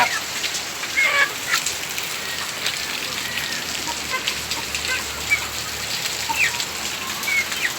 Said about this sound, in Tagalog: Medyo malakas na ang ulan, umaga pa lang.